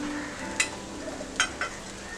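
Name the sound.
stirring egg fried rice after adding spring onion greens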